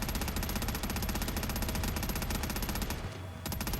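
Continuous automatic gunfire in the zombie checkpoint game Quarantine Zone: The Last Check, a steady rapid rattle of shots held down for seconds, loud and close, with a short pause near the end.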